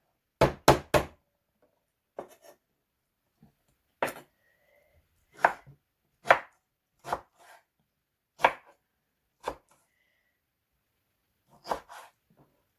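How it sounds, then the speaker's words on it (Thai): Sharp knife strikes on a cutting board, bamboo shoots cut into bite-size pieces for Thai fish-kidney curry, a quick burst of three followed by slower, irregular single chops spaced out over several seconds in a quiet room. "หั่นกำลังพอดีคำอ่ะ จะอร่อย"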